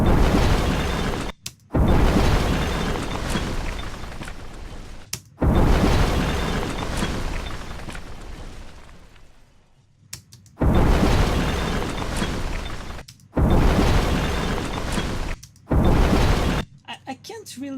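Explosion effects in a sound-design mix, several loud broadband booms and crashes in separate bursts with brief silences between, layered with debris and rumble, one long decaying tail mid-way.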